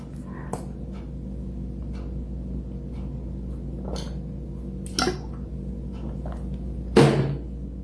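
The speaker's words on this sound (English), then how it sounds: "let me take a sip of water first" Someone takes a sip of water in a quiet indoor room: a few sharp, brief sounds stand out against near-silence, the loudest near the end.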